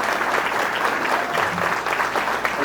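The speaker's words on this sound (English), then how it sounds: "We can give them a warm clap." Guests at a high school football alumni hall of fame ceremony give a warm, steady round of applause to honored family members, the clapping even and sustained throughout.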